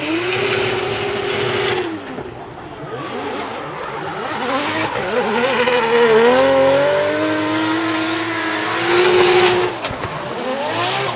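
A 2J-engined race car screams around Suzuka Twin Circuit during drift qualifying, revving loudly and continuously with rising and falling pitch and squealing tyres. No one speaks.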